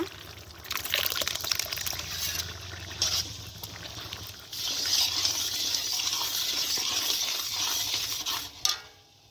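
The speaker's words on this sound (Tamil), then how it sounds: "புளியை வந்து ஊற்றிக்கலாம்ப்பா." Tamarind water poured into a pan of hot oil for a small-onion relish, giving a trickling liquid pour and then a sustained louder sizzling hiss that ends in a sharp clink.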